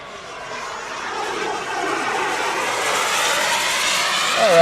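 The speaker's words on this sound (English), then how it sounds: "I'll start off with a trim check flyby pass" A turbine jet model airplane on a trim check flyby pass, its smooth whine and roar swelling steadily louder as it approaches.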